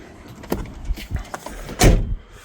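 Electric power windows in an older Volkswagen Passat with a corduroy-trimmed interior, heard as a few short motor whirs and clunks close by inside the cabin, ending in one louder thunk.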